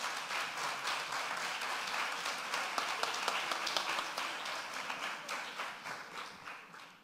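An audience at an academic conference claps in steady, fairly faint applause that swells slightly in the middle and fades toward the end.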